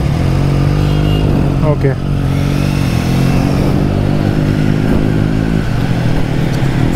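A Triumph Street Triple motorcycle runs loud and close with a throaty engine drone. It blips and revs briefly as the ride begins, and someone speaks over the engine.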